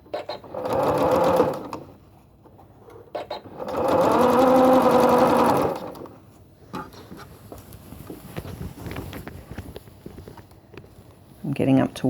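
A sewing machine stitches a zipper tape into a T-shirt seam in two loud steady bursts, each lasting a couple of seconds, with quieter handling noise between runs and a short final burst.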